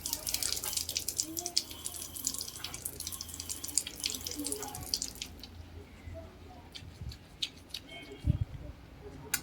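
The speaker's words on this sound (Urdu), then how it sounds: "پھر پانی سے مسواک کو دھو لیں" A tap runs steadily as a miswak is rinsed under water, giving continuous close splashing that thins out midway into scattered drips and small knocks.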